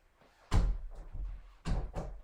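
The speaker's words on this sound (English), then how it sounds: "Let me just shut that door for a second." A door is pushed shut with a couple of heavy thuds and knocks, the impacts close and loud, followed by a few lighter bumps as it settles.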